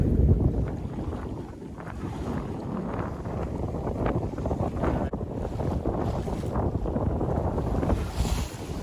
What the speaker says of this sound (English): We're going to tack our way out of this narrow channel.